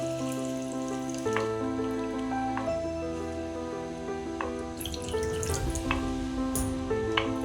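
Water poured into a pan of sautéed spice masala while making katla fish in poppy seed paste, a steady rushing pour and sizzle running throughout with a sustained tonal hum behind it.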